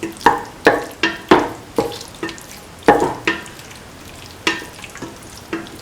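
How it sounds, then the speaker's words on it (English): Beef, tomato and coconut milk stew being sautéed in a pan, a spoon knocking and scraping in sharp repeated strikes at an uneven rhythm over a faint sizzle, close and loud, no talking. "Keep on sauteing."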